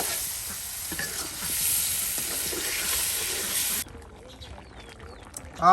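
Large pieces of a big fish, about five kilograms, frying in a pan in a village kitchen, a loud broad sizzle with stirring that drops off abruptly near the end.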